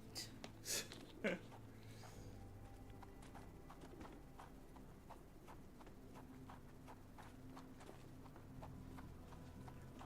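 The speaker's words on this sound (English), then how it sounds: "That's a horsey." Horse hooves clip-clop steadily in a Sherlock Holmes video game, a run of light rhythmic knocks over a constant low ambient hum, with a few brief louder sounds near the start.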